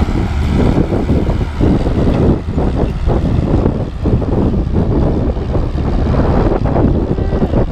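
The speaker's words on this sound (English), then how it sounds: "Something tells me the wind's making this video terrible." Loud, constant wind buffeting a microphone outdoors on a blustery evening on a farm field, a dense rumbling roar with gusty swells and dips throughout, no speech.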